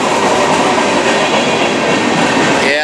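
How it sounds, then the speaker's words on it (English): Empty train passing close by while heading south into town, a loud continuous rumbling roar of wheels and cars with a faint squeal at the end, no talk. "There's the train. It's going south into town."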